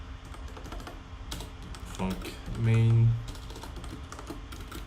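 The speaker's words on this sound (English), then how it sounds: "I'm still getting used to my keyboard." A computer keyboard clatters with steady, fast keystrokes as code is typed, close and clear, while someone talks over the typing partway through.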